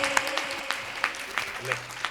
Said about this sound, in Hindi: बहुत सारी तालियां चहक के लिए